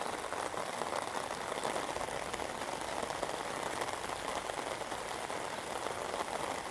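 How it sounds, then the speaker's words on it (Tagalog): Heavy rain pours down steadily, a dense, even hiss of drops striking surfaces that holds constant throughout, with no voices. "Malakas na yung ulan."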